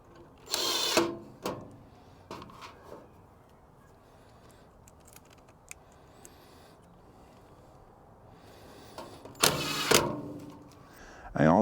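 Screws driven into a Masterbuilt Gravity grill to mount a new Fireboard controller housing: two short bursts of a power driver near the start and another pair near the end, fairly close, with quiet room noise between.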